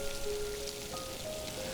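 Rain patters down steadily in Glencoe among heather-covered hills, a soft outdoor hiss heard alone, with faint thin tones drifting over it.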